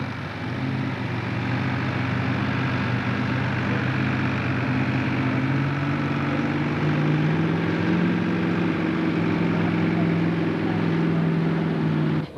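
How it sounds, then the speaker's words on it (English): Pro stock pulling tractor at a 10,000 lb. tractor pull in Connersville, Indiana, engine droning loud and steady throughout with a slowly rising pitch, no talk over it. "Next one up, Tim Palmer Green Tractor."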